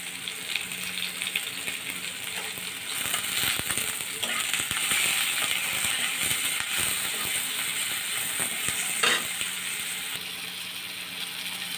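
Chopped tomato and green chilli fry in a pan with a soft, continuous sizzle and occasional stirring scrapes, fairly quiet and close, with no talk.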